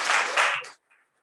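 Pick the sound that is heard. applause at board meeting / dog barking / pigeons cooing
applause at board meeting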